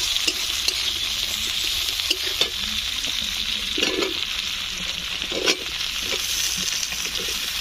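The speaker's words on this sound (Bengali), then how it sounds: "বন্ধুরা এই আলু আর কুদরিটা আমি ভেজে নেবো।" Potato and kundru (ivy gourd) fry in a pan, giving a steady broadband hiss of oil with a few soft stirring knocks scattered throughout, close and continuous, with no voices.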